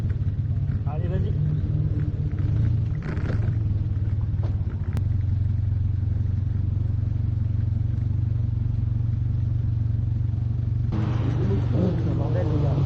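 Formula Renault race car pulling away from a standstill on a gentle clutch release with a little throttle, a loud, close, steady engine rumble with a voice speaking over it.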